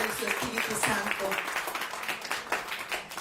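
A church congregation claps together, a brisk, fairly soft run of applause heard mixed with voices.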